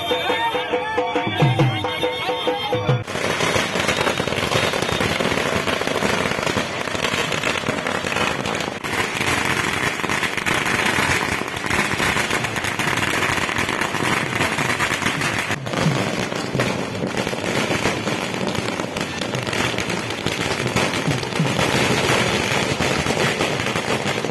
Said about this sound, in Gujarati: ટેકેદારો સમર્થકો અને કાર્યકરોએ ફટાકડા ફોડી ખુશી વ્યક્ત કરી હતી